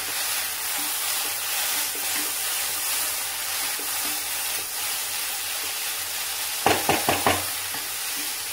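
Drumstick flowers and moong dal stir-fried in a pan, a soft steady sizzle and hiss running throughout, with a short burst of four quick scraping stirs near the end.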